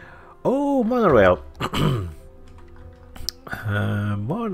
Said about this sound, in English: Apologies for clearing my throat